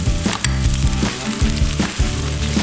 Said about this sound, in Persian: سیر و ادرک میندازیم.